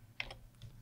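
A few quick keystrokes on a computer keyboard, faint and close, two or three soft clicks in under a second.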